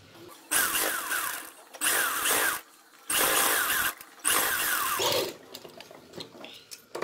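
A sewing machine stitching a decorative lehenga latkan, in four loud whirring bursts of rapid needle clatter separated by short pauses, followed by quieter fabric handling, with no talking.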